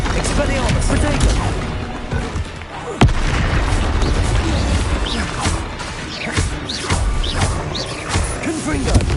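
Confringo blasting-spell explosions in the game Hogwarts Legacy: loud, dense booms and crashes layered with busy game effects throughout, with a person talking over the din.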